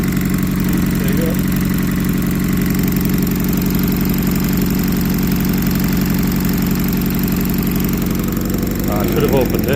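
An MG two-seater sports car, left abandoned for five years, idles close by with a steady, slightly uneven rumble as it settles; a person speaks briefly over the engine.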